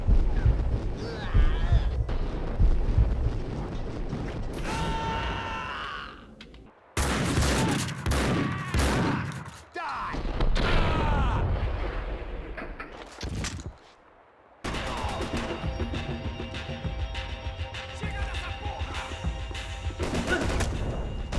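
Gunfire from the Max Payne shooter game, loud bursts of shots mixed with game music and ambient effects, broken by brief silent gaps across the scene.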